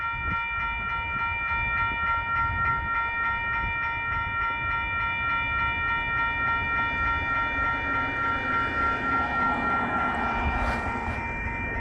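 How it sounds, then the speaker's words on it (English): A southbound empty coal train idles and rolls in the Helper, Utah rail yard during a crew change, a steady distant rumble with sustained horn-like tones and a faint metallic clank near the end, no voices. "That's a southbound empty coal train crew changing."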